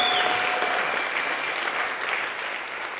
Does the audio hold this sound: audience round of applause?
yes